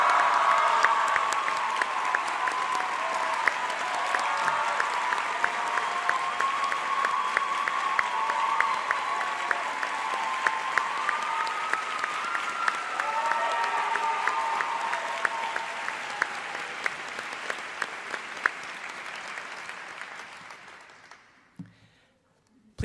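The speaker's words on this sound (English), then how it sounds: "Can we please give a round of applause to Hannah Ito and the team that made that wonderful video?" Sustained applause from a large audience at a high school graduation ceremony, steady dense clapping for about twenty seconds before tapering off and stopping near the end.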